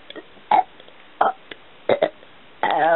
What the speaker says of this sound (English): Here's an example of a burp.